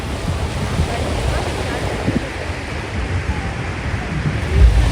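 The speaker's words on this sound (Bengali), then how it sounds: "কি সুন্দর ঢেউটা আসছে" Surf rolling onto a beach in a steady wash of broadband noise with wind buffeting the microphone, a slightly louder surge near the end.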